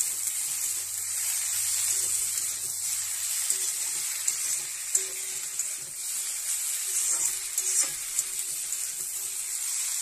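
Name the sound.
Malabar spinach being stirred and fried in a pan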